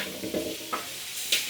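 Garlic fries in chicken oil, a bright sizzle broken by a few scraping stirs of the pan, close and short.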